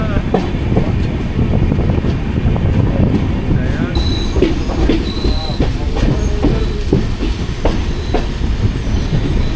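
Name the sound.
Jamnagar–Tirunelveli Express train on Konkan Railway coming to a stop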